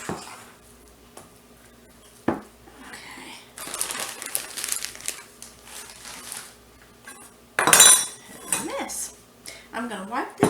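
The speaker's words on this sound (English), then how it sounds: "You can use a spoon, use a fork, whatever you feel like. Just get it blended together." A spoon or fork scrapes and clinks in a bowl, blending peanut butter buckeye filling in a home kitchen, in irregular bursts of stirring with brief pauses between, close and moderately loud.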